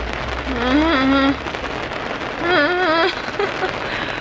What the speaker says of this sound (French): Il pleut tellement.